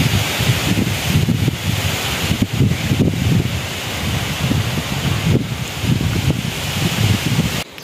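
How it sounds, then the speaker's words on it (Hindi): Strong wind buffets the microphone in a steady, loud roar with gusty low rumbles and rustling, continuous throughout with no voices. "लेकिन यार अचानक बादल आना शुरू हो गए। ये देखे बादल आहिस्ते से चा रहे हैं और तेज़ हवाएं चलना शुरू हो गई"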